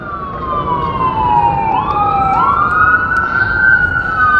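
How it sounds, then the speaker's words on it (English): An ambulance siren wails loudly as the vehicle passes on a nearby street, its rising and falling tone bending downward in pitch as it goes by, steady and dominant over low road rumble. "Just an ambulance going by."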